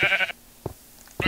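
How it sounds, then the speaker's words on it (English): Sheep bleats from the video game Minecraft: a short bleat at the start, then two brief, quieter calls spaced apart, each alone against near silence. "I'll kill this sheep instead."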